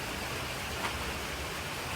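Rain falls as a steady, even hiss of broadband noise, moderately loud and unbroken throughout, with no voices.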